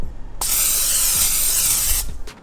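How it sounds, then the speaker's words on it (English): A steady hissing blast of cooking oil spray lasts about a second and a half, close and loud, with no voices. "Just use a little bit of spray."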